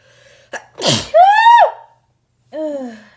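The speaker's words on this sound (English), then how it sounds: "I need to sneeze" A sharp intake of breath followed by one loud, close sneeze, then a brief vocal exclamation after a pause.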